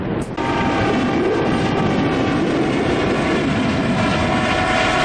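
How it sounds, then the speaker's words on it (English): A Coast Guard helicopter passes over coastal Newport, Oregon, its engine a loud, steady drone that holds evenly throughout, with no talking. "There's a Coast Guard helicopter."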